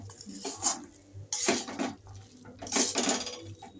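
A spoon scrapes and clinks against a pan while ghugni masala is mixed with tomato ketchup, in several distinct bursts of stirring with quiet gaps between.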